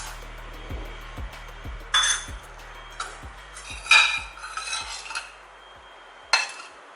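A metal spoon stirs homemade honey cough syrup in a cup, giving a run of regular clinks and taps against the vessel with a few louder scraping swirls, close and clear, with no talking.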